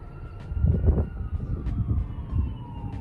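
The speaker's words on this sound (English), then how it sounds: "you can hear the sirens, which is kind of like a constant thing here" A faint, distant siren wails steadily in the background beneath low rumbling city noise and traffic.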